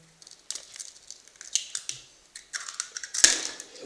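Four eggs cracked one after another for a zebra cake batter, giving sharp close taps and crunchy shell breaks at irregular intervals, with a louder crack near the end and no talking.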